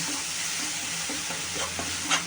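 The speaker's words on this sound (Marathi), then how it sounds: "त्याला असा चांगला परतून घेऊ आणि कांदा चांगला परतून घ्यायचा" Onion sautéing in a pan with garlic, cumin and mustard seeds, a steady soft sizzle with a few spoon scrapes and stirs, ending in a brighter scrape.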